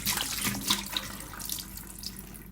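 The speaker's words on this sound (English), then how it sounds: "Going to do a double rinse, and with broccoli they sometimes kind of stick to the edges, so kind of swirl them around for a little longer." Tap water runs steadily into a sink while broccoli sprouts are rinsed and swirled, a close, continuous splashing wash with no voices.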